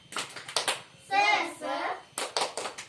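Children in a classroom clap a rhythmic cheer pattern, sharp groups of hand claps around a short stretch of chanted group voices, with more claps following in quick bursts.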